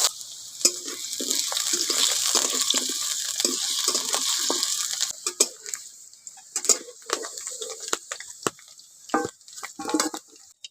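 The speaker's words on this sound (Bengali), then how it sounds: "আলুটাকে ভেজে নিচ্ছি।" Potatoes frying in oil in a pan for a kofta curry give a steady hiss and sizzle, broken by scraping and stirring clatter from a utensil, close by.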